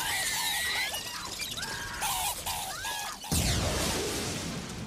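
Rat squeaks for a film made from pitched-up chicken clucks, a chorus of chirpy squeals over a loud rumbling bed that shifts to a harsh crash-like roar.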